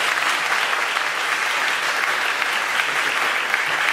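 Studio audience applauding a guest arriving on a French-language evening comedy show, a dense, steady wash of clapping that holds at full strength from start to finish.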